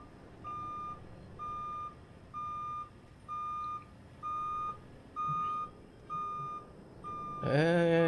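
Truck reversing alarm in American Truck Simulator, a steady string of about eight evenly spaced electronic beeps close by, followed at the end by a sudden louder burst of engine or horn noise.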